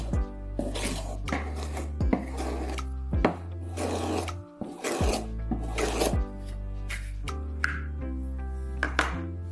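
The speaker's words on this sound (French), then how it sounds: "Maintenant, tenez le tube par le dessus tout en affûtant sur une pierre." A knife blade is sharpened on a whetstone with the hand guarded by a plastic tube, producing about eight rhythmic rasping strokes, each a gritty scrape ending in a faint metallic ring.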